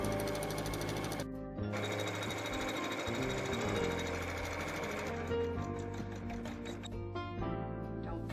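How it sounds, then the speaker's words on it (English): An embroidery sewing machine stitching a feather and vine design into quilt-block fabric, with a steady, fast mechanical whir and rhythmic needle clatter that continues throughout, close and unbroken. "we're going to let it sew out the feathers and the vines"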